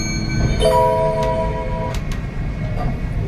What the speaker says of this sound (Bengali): ট্রেন খড়গপুর স্টেশন পৌঁছে গেছে